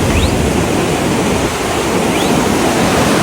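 Fast-flowing river water rushes under a bridge in Kashmir, a steady, loud, close roar of broadband wash that holds level through the clip with no voices.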